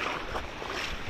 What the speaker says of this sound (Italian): Belle onde